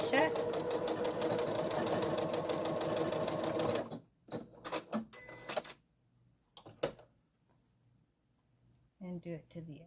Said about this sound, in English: Sew that pleat shut.